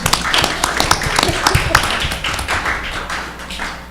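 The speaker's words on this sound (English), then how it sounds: "You can clap here." A crowd claps at a school board meeting, a steady dense patter of many hands in a room for several seconds, fairly loud and close, with no talk over it.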